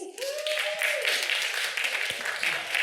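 Audience applause for poet Ashlee Haze at a live event in Mercedes-Benz Stadium, a broad wash of clapping that swells and holds steady, with a brief whoop near the start.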